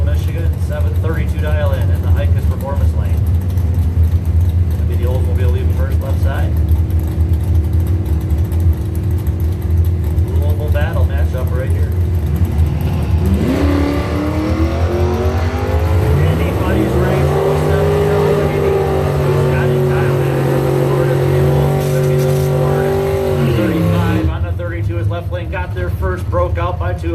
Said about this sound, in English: That'll be the Oldsmobile leaving first left side.